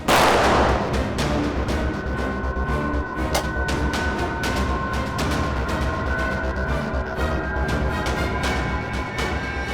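A rapid barrage of sharp gunshot-like bangs, dense and continuous, like heavy gunfire or artillery echoing with no voices.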